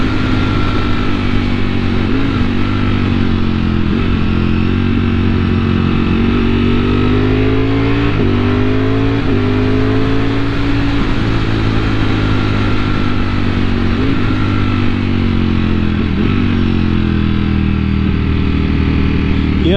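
A Ducati Multistrada V4S revs up through the gears in a steady, loud, close engine drone, each rising pitch sweep cut off by a quick shift before climbing again.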